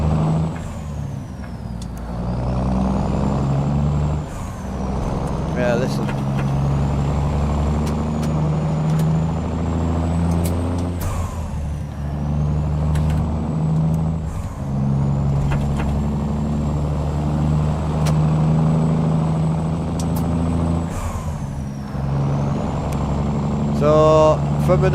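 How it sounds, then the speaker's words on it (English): A semi truck's diesel engine runs steadily through open cab windows in a highway convoy, a loud continuous rumble with occasional brake hiss, and people talk over it throughout. "so we roll the windows down to hear the truck"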